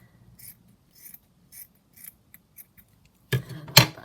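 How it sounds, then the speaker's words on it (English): Scissors roughly trim around fabric while junk-journal paperclip embellishments are made: a run of light, quick snips, then two louder, closer cuts at the end, with no talking. "I'm just going to cut very roughly kind of around the fabric"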